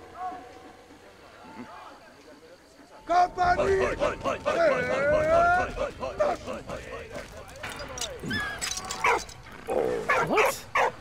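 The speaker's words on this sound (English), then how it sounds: "Quit barking like that, dude." A dog barks repeatedly in the World War I video game Valiant Hearts, several loud yips and barks over game music and sound effects, with someone talking over much of it.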